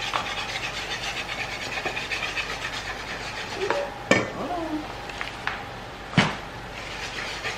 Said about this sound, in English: you want to stir and add your flour